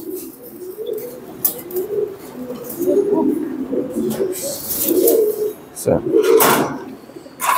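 Show king pigeons coo in a steady, low, rolling murmur that overlaps from close by, with a sharp clack or two cutting through near the end.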